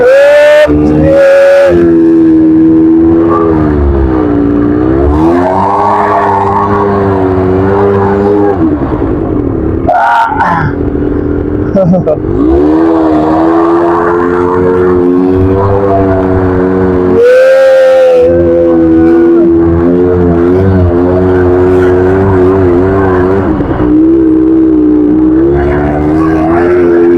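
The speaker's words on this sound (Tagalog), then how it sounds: "Malakas yung makina ng ano to, ng motor." A motorcycle engine revs loudly and labours as it struggles through deep red sand in Riyadh, with a steady harmonic drone rising and falling and brief louder bursts between gear changes.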